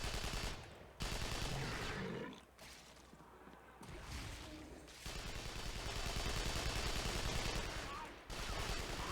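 Rapid continuous gunfire from the Hellgate: London video game, dense automatic bursts with brief pauses, loud and close, with a voice talking over it.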